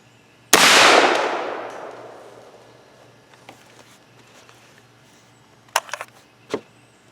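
A single sharp, loud shot from a 300 Blackout rifle firing a 194gr Lehigh Defense bullet outdoors, with a long decaying echo and a few faint clicks and clanks after it.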